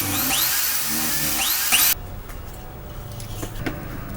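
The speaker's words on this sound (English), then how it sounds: "I'm gonna use a Dremel to cut out each of the connecting parts after that, and then clean it up" Dremel rotary tool cutting out connecting parts of a circular hole during a van heater install, a loud shrill grinding whine for about two seconds that cuts off abruptly, leaving quieter scraping and handling noises.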